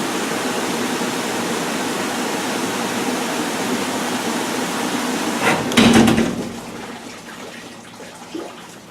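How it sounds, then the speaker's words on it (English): Water draining from a bucket, a steady rushing pour that swells with a brief gurgling surge, then thins into a quieter trickle with a faint knock near the end. "After we've let the water drain a little bit from the top"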